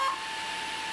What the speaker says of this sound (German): Vollbremse, bis er piept